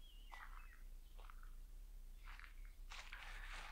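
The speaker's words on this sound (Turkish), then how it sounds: "Göçmen kuşlar burada gelmişler. Ötüyorlar, duyuyor musunuz bilmiyorum seslerini de." Migratory birds sing in bursts of short, bright chirps and trills at moderate distance, with several separate calls over a steady low background hum.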